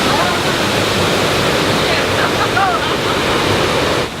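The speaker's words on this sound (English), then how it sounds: "This is Datanla waterfall in Dalat, Vietnam." Datanla waterfall in Dalat, Vietnam, a loud, constant broadband rush of falling water heard from close by, with steady roar and slight wind buffeting on the microphone.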